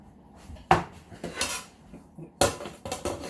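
A large dinner plate is set over the top of a pan with a few sharp ceramic-on-metal clinks and knocks, close and distinct, spaced across a few seconds.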